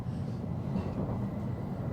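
A Shinkansen bullet train in Japan runs after leaving the station, heard from inside as a steady low rumble with a smooth rolling hum and no voices.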